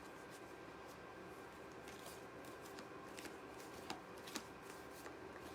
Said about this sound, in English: I'm just shuffling your energy into the deck